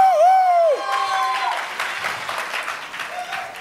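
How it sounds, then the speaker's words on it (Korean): Applause from a church audience at a Christian music contest greeting a band, starting after a brief sung or spoken tone and continuing as moderate, uneven clapping. "여러분 큰 박수 한번 보내주시면 감사드리겠습니다"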